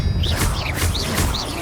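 A spell effect from Hogwarts Legacy: a burst of sharp crashing whooshes with bright swirling magical tones, repeating in quick pulses at close, loud level.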